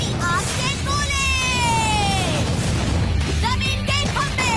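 Cartoon fireball attack explosions blast as a loud, continuous roar of booms and crashes, with a long descending whistle-like tone and overlapping voiced cries riding on top, then sharper bursts near the end.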